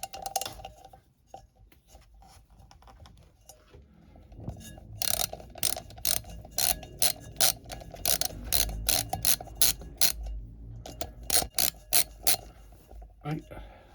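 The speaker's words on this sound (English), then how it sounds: "And then I'll put the ratchet on and we'll get rid of them." Ratchet undoing bolts on an MGB Lockheed brake servo, with quiet fiddling at first, then bursts of sharp ratcheting clicks in uneven runs, close-up, with a voice briefly in the background.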